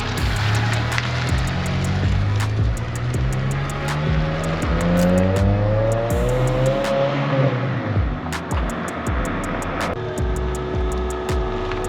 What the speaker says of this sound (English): I'm gonna let Dan drive this guy